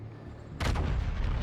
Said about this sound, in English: Take a pot shot, and we forgot we loaded HE